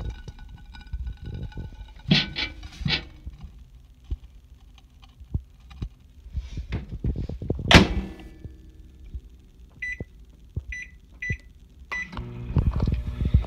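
A microwave oven runs with a bar of Ivory soap inside, its low hum carrying sporadic crackles, pops and clicks, sharp bursts and a few brief beeps breaking through.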